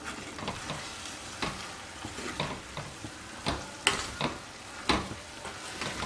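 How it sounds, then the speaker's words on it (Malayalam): Kozhuva fish peera being stirred in a pan on the stove, with irregular scraping strokes over a soft sizzle and simmer, quiet and close. "ഇനി നമുക്കൊന്ന് ഇളക്കി കൊടുക്കാം."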